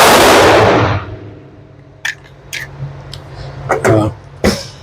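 Ruger 5.7x28 pistol shots at an outdoor range: one loud blast with a long ringing decay, then a series of sharper, quieter cracks spaced unevenly over the next few seconds.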